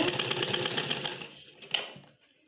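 A sewing machine stitches fabric in a quick run of rapid, even mechanical ticks lasting about a second and a half, then slows to a couple of close clicks before stopping.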